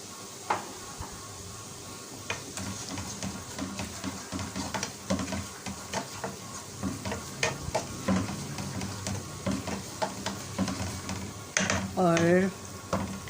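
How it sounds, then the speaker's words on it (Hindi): Cumin and dried coriander sizzling in a pan with garlic and ginger, a steady close hiss broken by scraping stirs and clinks of a spoon against the pan, with a brief voice near the end. "तो इसमें हम डाल देते हैं ज़ीरा और सूखा धनिया।"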